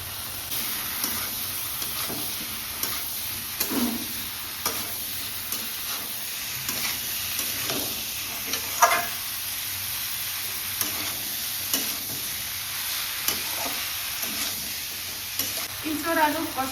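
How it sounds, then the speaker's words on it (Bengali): Young jackfruit and potato are stir-fried with spices in a pan, a continuous sizzle broken by repeated scraping strokes of a spatula, close and steady with no talk. "এঁচোড় আলু কষানো হয়ে গেছে ভালো করে"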